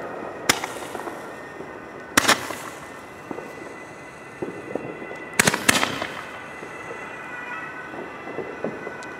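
Consumer fireworks battery from a low-cost family assortment fired outdoors: a few loud, sharp separate shots spaced seconds apart, each with a brief crackling tail over faint background hiss.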